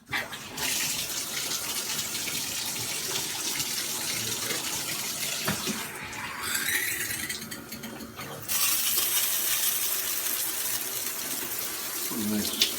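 Water sprays steadily from a brass high-flow adjustable shower head, a continuous broadband hiss with a brief shift in flow midway.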